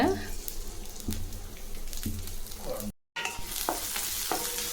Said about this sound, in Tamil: இதை நல்லா எண்ணெயிலே பொரிச்சு எடுத்துக்கலாம்